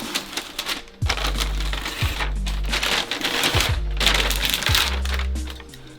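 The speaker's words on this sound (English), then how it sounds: "So I'm going to continue peeling that layer back." An adhesive backing layer is peeled slowly off a closed-cell foam soundproofing panel, giving a loud close tearing crackle in long pulls with short breaks between them.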